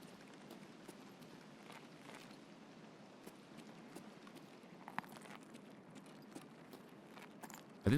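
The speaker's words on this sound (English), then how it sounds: "I think the footsteps I'm hearing are above me." Faint footsteps from above the player in Escape from Tarkov on the Streets of Tarkov map, soft irregular steps and small knocks, muted and distant over a low background hum, with a louder thump at the very end.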